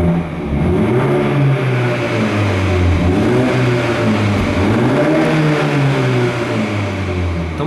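A 2017 BMW 330i xDrive exhaust sounds while driving, with a loud, steady engine drone that rises and falls in pitch as the car accelerates and eases off, close and with no talk.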